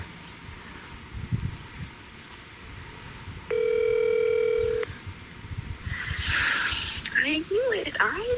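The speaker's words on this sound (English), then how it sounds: "Now I gotta make some phone calls." A phone dial tone while a hunter makes a call outdoors in Ohio, a steady electronic hum of just over a second, followed by faint ringing-like chirps and outdoor background noise.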